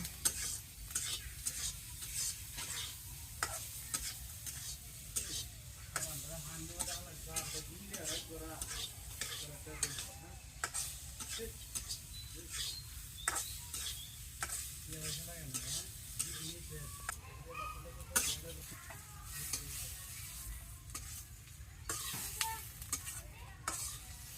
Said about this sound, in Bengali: বোয়াল মাছ রান্নার জন্য এখন তেল দিয়ে দিছে তেল গরম হয়ে গেলে তারপর পেঁয়াজ দিয়ে দিব